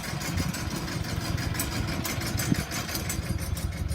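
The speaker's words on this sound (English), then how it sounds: "we got the tractor pulling the motor out" A tractor engine runs steadily at a low idle while lifting the engine out of a Mazda RX-7, a continuous rumbling drone heard up close with no speech.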